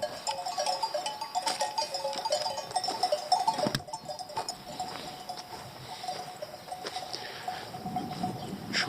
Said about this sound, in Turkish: Koyunlar otluyor.